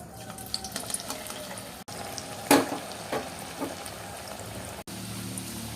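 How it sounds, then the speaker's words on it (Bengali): Fish is slid into hot oil in a pan and fries with a steady, close hiss and crackle, rising in a brief louder burst partway through, with no voices. "এই দেখো আমি মাছটা এবার ছেড়ে দিচ্ছি তেলে।"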